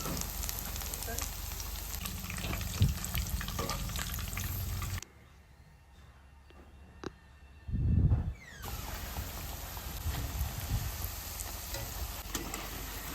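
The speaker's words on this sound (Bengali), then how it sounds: "এখন আমি ফুলকপিগুলো দিয়ে দেব। 5-7 মিনিট কম আছে ভালো করে ভেজে নিতে হবে।" Cauliflower pakoras deep-frying in hot oil, a dense continuous crackling sizzle that cuts out for a few seconds midway, a short low bump, then resumes at full strength.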